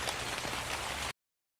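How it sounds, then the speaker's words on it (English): Rain pours as a steady, full hiss in an autumn forest in an animated kids' fox story, then cuts off abruptly into silence after about a second. "The rains began."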